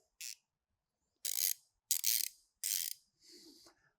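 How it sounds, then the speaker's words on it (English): A Milwaukee locking flex head ratchet with a high tooth count clicking through its mechanism in four distinct bursts of crisp rapid ratcheting, close and clear against silence, with a softer fifth burst at the end. "ratcheting mechanism definitely actually sounds a little different"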